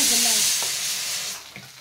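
Raw potato pieces sizzle in hot oil while being cooked for sabudana khichdi, a close, bright frying hiss with light stirring scrapes that eases slightly toward the end.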